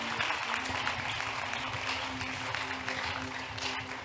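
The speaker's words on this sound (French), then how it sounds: "On acclame très fort, très fort, très fort, très fort." Applause and cheering from a congregation at a church service, a dense, steady clapping wash lasting the whole stretch with a sustained tone underneath.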